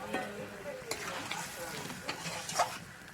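Potatoes stirred with spices in a pan at home, soft scraping and light clinks of a spatula over a faint sizzle, quiet and close with a few sharper knocks.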